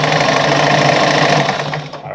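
A Pioneer semi-industrial heavy-duty sewing machine stitches fabric with a loud, fast, steady mechanical whir close by, slowing and fading out near the end.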